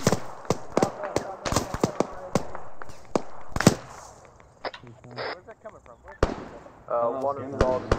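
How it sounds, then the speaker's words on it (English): Gunfire in the military shooter game ArmA 3, a rapid series of sharp cracks and bangs, some near and loud, others distant, mixed with people talking over radio. "Where are these shots coming from?"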